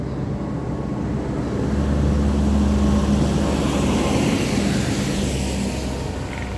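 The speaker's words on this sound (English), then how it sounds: "Noisy tractor, go away." A noisy tractor passes through a Wiltshire village, a low heavy engine drone that swells as it comes close and then eases off, steady and unbroken, with no voices heard.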